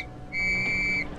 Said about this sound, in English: The warning may also be given by short blasts on police whistles.